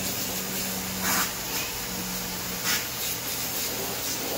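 Cleaner sprays onto a 1.5 hp Panasonic inverter air conditioner in a steady, loud hiss, with two brief bursts standing out against the constant rush.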